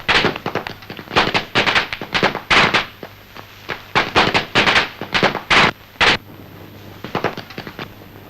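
Diwali firecrackers burst in a film scene, a rapid irregular string of loud sharp cracks and pops in clusters, some overlapping, with brief gaps between volleys.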